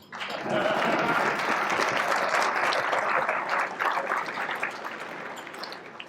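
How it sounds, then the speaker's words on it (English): Luncheon audience at a Lincoln Lunch political speech breaks into steady, full-room clapping that starts quickly, stays even and strong, and eases slightly toward the close. "Applause would be good now."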